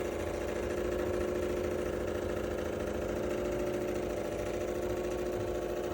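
A rattling air conditioner in a rental home in Mérida runs with a steady, rattling mechanical hum, continuous and fairly quiet, with no voices.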